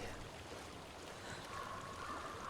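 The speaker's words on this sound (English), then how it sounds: "I hear water." Quiet, continuous water flowing and trickling at a low, even level, like a gentle stream heard from a short distance, in the video game Hellblade.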